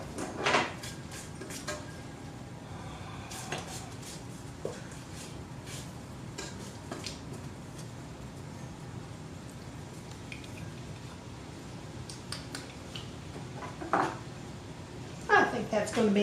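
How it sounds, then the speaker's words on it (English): Spatula scraping down the sides of a mixing pan of white chocolate cake batter, a run of soft, irregular scrapes and light knocks, fairly quiet and steady, with a few sharper clinks toward the end. "we are going to scrape the pan down a little bit"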